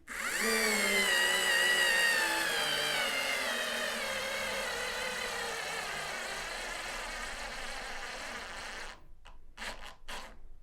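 Ingco cordless screwdriver, the middle unit of the range, driving a screw: a loud, steady high motor whine that slowly drops in pitch as it loads up for about nine seconds, then a few short bursts as it stops and restarts.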